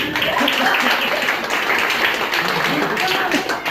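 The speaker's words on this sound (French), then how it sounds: "Très bien, on peut l'applaudir." A crowd at a campsite show applauds steadily, a dense wash of clapping that holds at even loudness throughout.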